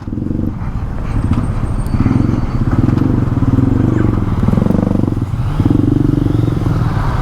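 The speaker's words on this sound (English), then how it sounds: "And I stalled the bike, first stall, caught on camera." A Yamaha XSR900 motorcycle rumbles loudly and steadily up close over a bumpy road, its engine note pulsing and clattering without any break before it stalls.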